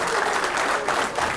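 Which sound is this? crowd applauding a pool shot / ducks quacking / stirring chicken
crowd applauding a pool shot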